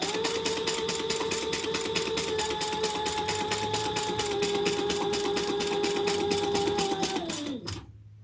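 A sewing machine runs a continuous basting stitch along the edge of a leather wallet's card slots, a steady close rapid mechanical chatter with a whirring tone that holds for about seven seconds, then slows and stops.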